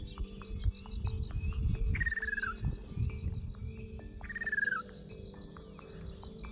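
Javan hawk-eagle calls in a pine forest, two descending whistled cries a couple of seconds apart, fairly distant over a constant drone of crickets and insects.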